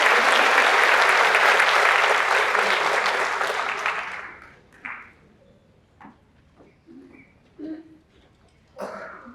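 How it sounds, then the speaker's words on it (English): Audience applause at the ITHS Class of 2023 graduation ceremony: a loud, dense burst of clapping that fades out after about four seconds, leaving a few scattered claps and small noises in a quiet hall. "let's give her another round of applause"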